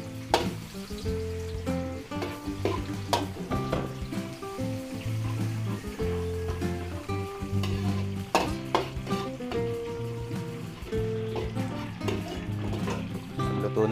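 Garlic sizzles and fries in a pan for Batangas-style Filipino cooking, a steady crackling hiss with occasional stirring clinks, while background music plays throughout.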